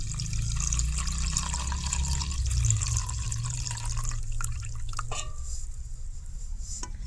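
Starchy white water from ground corn drips and trickles steadily through a cotton cloth into a container below, a close, continuous wet patter with no talking.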